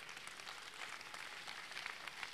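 Audience at a political rally in Rennes applauds, a steady wash of clapping at moderate, fairly distant level, continuous throughout with no voices over it.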